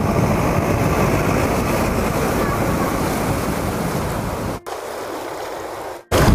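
The Banas river in flood, rushing water roaring in a continuous dense wash, loud and close, briefly cutting out near the end.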